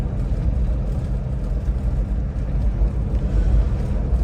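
A 2009 Land Rover Defender 110 TDCi XS seven-seat station wagon drives along, its diesel engine giving a loud, steady low rumble with constant road noise from inside the cabin.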